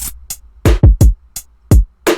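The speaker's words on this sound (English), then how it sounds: "to create a more trap kind of feel with the hi-hat" A sparse trap-style beat with deep booming kicks and short bright hi-hat ticks in a choppy, syncopated pattern, loud and upfront with no voices.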